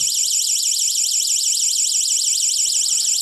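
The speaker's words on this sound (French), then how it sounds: "vous avez donc le mode alarme avec une sirène en 90 décibels" The alarm of a Xiaomi Nextool survival lamp, a piercing 90-decibel electronic siren, wails continuously, its pitch rapidly warbling up and down in a steady, fast cycle, loud and close.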